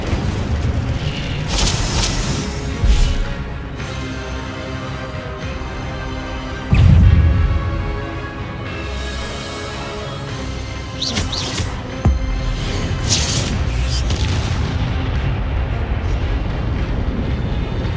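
Repeated Incendio fire spells cast in the video game Hogwarts Legacy, bursts of whooshing flame and booming impacts over continuous game ambience, one heavier boom standing out midway.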